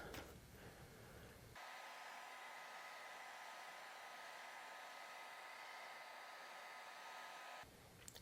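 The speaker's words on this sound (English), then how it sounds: "Now I will just dry it with my hair dryer." A hair dryer switches on and blows with a steady, loud whooshing hiss for several seconds, then cuts off.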